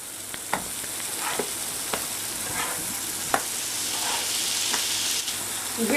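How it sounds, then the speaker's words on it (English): Sliced bananas caramelize in a hot pan for blueberry banana pancakes, giving a constant close sizzle dotted with small crackles and pops, with no talking. "That, my friends, is the sound of bananas caramelizing."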